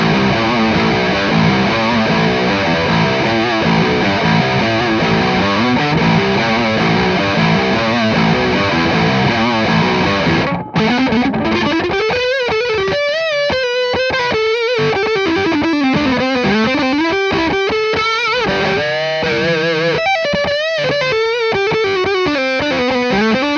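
Electric guitar played through a Zoom TM-01 Tri Metal distortion pedal, heavily saturated chords for about ten seconds, a brief cut, then fast distorted single-note riffs and bends; loud and continuous, no talking.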